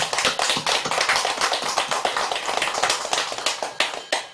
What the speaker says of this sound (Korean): 한번 우리 박수로서 한번 이 자리에서 쳐드립시다